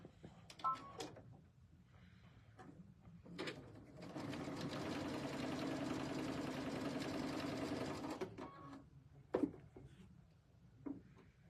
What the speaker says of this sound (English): So we're just going to sew on the line from corner to corner.